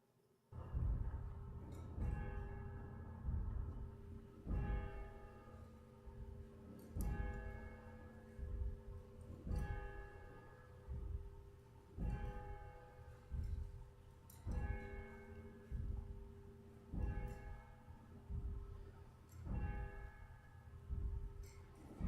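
A church bell tolls slowly and evenly at a remembrance service, each strike ringing out and fading before the next, about ten strikes in all, soft and distant.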